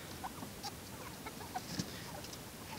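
Chickens peck at scattered money, giving faint, sparse taps and soft clucks over a quiet, hissy background.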